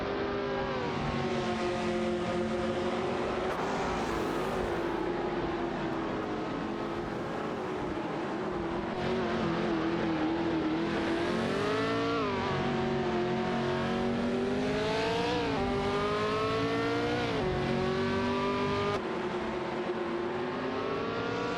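Race cars in an AI racing video game, engines droning and whining continuously with rising and falling pitch as they shift and pass, loud and steady throughout with no talk.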